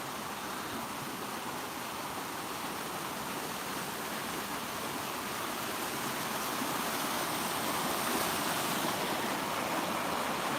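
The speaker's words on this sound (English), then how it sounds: "Yeah, waterfall's coming down." Waterfall in Blackburn pouring in an even, dense hiss of falling water, constant and fairly close, swelling slightly toward the end, with no voices.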